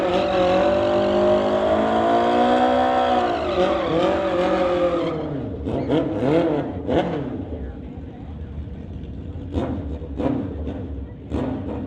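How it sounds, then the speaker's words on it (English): Kawasaki Ninja motorcycle at a drag strip, its engine screaming loud and high as it revs through rising gears, then fading into the distance while a commentator speaks over crowd and track noise. "Charles Evans from Abbotsford driving his Kawasaki Ninja."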